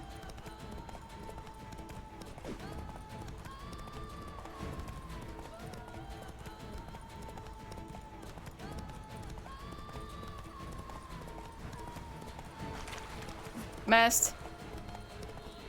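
In The Witcher 3: Blood and Wine, a horse gallops with a steady rhythmic clip-clop of hooves under game music, while someone speaks in short bursts and a sharp effect flares near the end.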